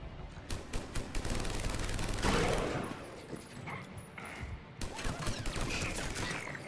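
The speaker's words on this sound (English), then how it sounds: "we're getting shot at again" Gunfire in the sci-fi shooter Mass Effect, rapid bursts of automatic weapon fire in close quarters with a heavier blast midway, then more rattling volleys against a busy combat backdrop.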